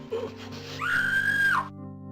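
An old stock scream sound effect from a horror movie rises into a sustained, piercing shriek lasting under a second, then cuts off abruptly, heard over faint background hum.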